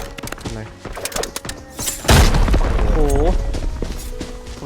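A deep booming grenade blast erupts midway through scattered game clicks and thumps in Arena Breakout, followed by a rumbling tail and a brief voiced exclamation.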